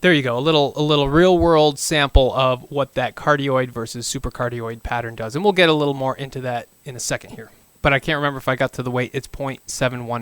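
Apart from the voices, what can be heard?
No distinct noise like a dog, phone or traffic.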